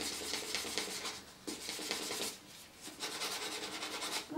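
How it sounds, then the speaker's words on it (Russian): Fine sandpaper rasps over a leatherette shoe under repair, in quiet, close, rhythmic back-and-forth strokes that pause briefly twice before resuming. "И нужно вот это все дело хорошенько зашлифовать."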